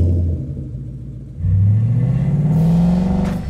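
A 2017 Ford Mustang GT V8 drives along a street, its low engine rumble idling briefly before surging as the car accelerates, the rising drone loud and close with no voices.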